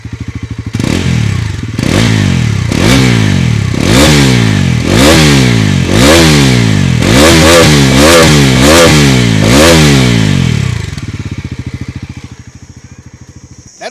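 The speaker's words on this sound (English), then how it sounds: "And when I rev it, this is what it sounds like." A Bajaj Pulsar NS400Z motorcycle's engine is revved repeatedly near the exhaust, about ten loud rising and falling blips in a row, then it settles back down, with no voices.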